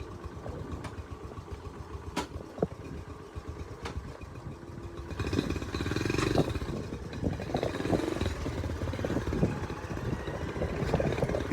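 A Honda Trail 90 fitted with an ATC 125M semi-automatic engine rides along, a low steady engine drone that grows louder midway with a few sharp knocks over it.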